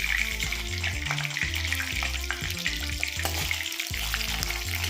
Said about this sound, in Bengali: খুব ভালোভাবে নাড়িয়ে চাড়িয়ে আমি চিকেনগুলো ভেজে নিচ্ছি